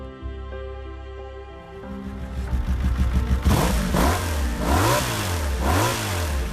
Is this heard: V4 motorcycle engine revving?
yes